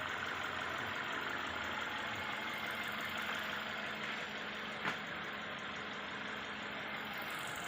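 A Toyota Altis automatic engine runs smoothly at idle, a faint, steady hum with a soft constant whir and one small click partway through.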